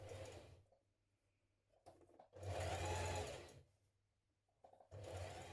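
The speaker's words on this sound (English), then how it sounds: "Now I'm going to just stay stitch the edges together just to keep them in place." A sewing machine runs a stretch stitch to stay-stitch the edges of a knit neckband in three distinct motor bursts separated by quiet pauses, close and steady, with no talking.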